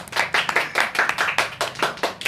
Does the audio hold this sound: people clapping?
yes